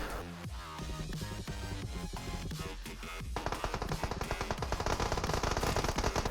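Rapid bursts of gunfire crackle over a dense, busy PUBG game soundscape on the Erangel 2.0 map, shots from above growing louder and more continuous in the second half.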